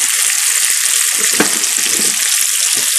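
Loud, steady sizzling of food frying in a pan over medium heat, with the crackle running continuously and evenly for the whole stretch and no voices.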